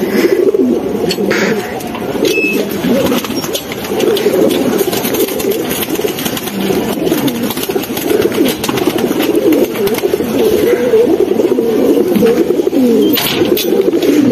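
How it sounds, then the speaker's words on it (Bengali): Several pigeons coo in a loft, including a male bird, with repeated low throaty calls overlapping steadily and close by, alongside a faint background hum. "এটা হচ্ছে নর কবুতর"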